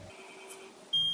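A Hinomoto Die Station B die grinding machine sounds a short electronic alert beep after homing, a thin high tone that is faint and close against a quiet workshop background.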